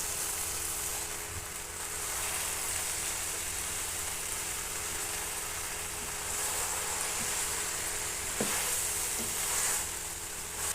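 Okra frying in oil in a pan, a steady close sizzle running throughout with occasional soft clinks and scrapes of a spoon stirring, no voices.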